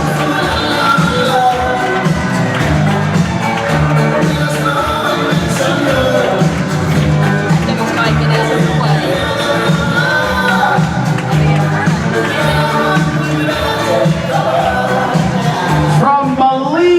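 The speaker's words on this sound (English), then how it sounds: "don't forget to cheer for each and every country" Cruise ship audience in a crowded onboard venue cheering during a country roll call: continuous loud crowd noise with shouts and whoops, blended with voices and some music, near and dense throughout.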